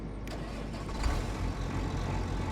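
A tractor engine in a farming video game hums in a steady mid-level drone as the machine moves off, with a slight swell in the rumble partway through.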